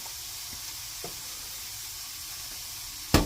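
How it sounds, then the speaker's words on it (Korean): Water poured into a hot pan of stir-fried garlic, with the heat turned off, sets off a steady hissing sizzle that ends in a sharp splash-like burst. "물 넣습니다"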